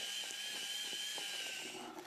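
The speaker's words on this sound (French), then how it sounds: "Le mieux et le plus rapide est de le faire avec un malaxeur sur votre perceuse." A power drill fitted with a paddle mixer whirs steadily while stirring plaster, a high, continuous whine with faint scraping knocks underneath, fairly quiet and sustained until it tapers at the end.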